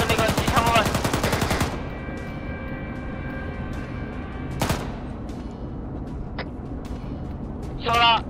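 A tank's turret-mounted machine gun fires in the video game Arma 3, a loud rapid burst opening the scene, then a single shot and later another short burst over engine rumble, with people talking.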